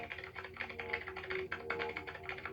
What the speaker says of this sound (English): I proceeded to type on the keyboard.